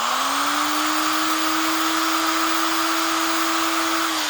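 A power grinder rounds off the tail of a valve spring being prepped for titanium retainers, a loud, steady, high whine held close and unbroken throughout.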